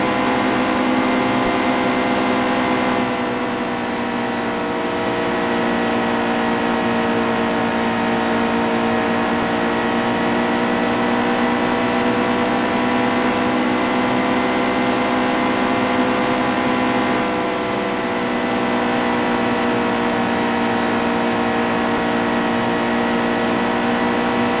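Loud, unbroken drone of stock car engines at full speed on the last lap at Atlanta in NASCAR Heat 2, a dense, even roar with no breaks.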